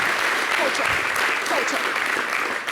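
A crowd at an outdoor summer holiday broadcast event claps steadily and densely for a few seconds, a moderately loud wash of applause with no other sound.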